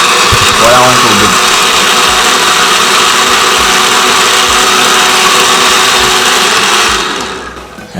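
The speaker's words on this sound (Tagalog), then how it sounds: "Medyo mahina kasi itong blender." A weak countertop blender whirs continuously and loudly for about seven seconds while blending a vegan smoothie, then winds down near the end.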